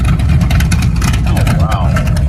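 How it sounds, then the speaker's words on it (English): A muscle car engine rumbles loud and close through open exhaust cutouts, a deep throaty roar that swells briefly as the throttle is blipped. "that's your sound with the exhaust cutouts"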